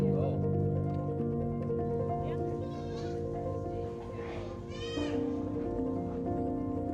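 Goats on a farm bleat a few times, wavering calls rising over steady background hum and people talking nearby.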